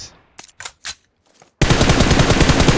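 In a video game, a few sharp clicks and taps come first, then after a short pause a loud, rapid burst of automatic gunfire sprays continuously to the end.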